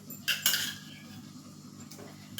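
A metal spoon clinks and scrapes against a pot a few times while mixing curd into moraiya khichdi, with quiet stretches between strokes.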